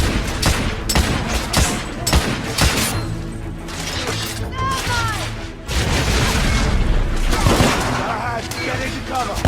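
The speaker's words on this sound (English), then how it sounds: "I'm taking heavy fire" Heavy gunfire fills a battle in The Order: 1886, dense repeated shots and booms with shattering debris, loud and continuous, while voices shout over the fighting.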